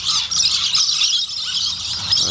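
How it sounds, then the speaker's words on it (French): Birds squeal and chirp outdoors in Australia, a loud, continuous high-pitched chorus of calls with no talking. "Il y a des oiseaux qui ascensionnent aussi à fond la caisse"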